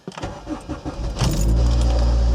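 A restored car's engine cranking and catching on its very first start, brief clicks and churning of the starter giving way to a loud, steady idle that holds to the end.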